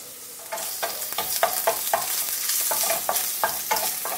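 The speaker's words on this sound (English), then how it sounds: "When it's sizzling away, I'm going to throw in my prawns" Lively sizzling of sugar-cured prawns in butter in a hot pan, with repeated crackling bursts and scraping as they are moved around, close and fairly loud.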